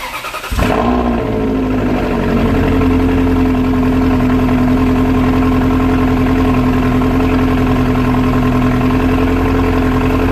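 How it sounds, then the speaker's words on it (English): A 2005 Ferrari 360 Modena cranks briefly and fires up, then settles into a loud, steady high idle with a smooth, even engine drone running close and uninterrupted for the rest of the stretch. "We're gonna go ahead and start her up."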